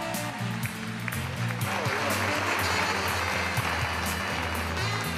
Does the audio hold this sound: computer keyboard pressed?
no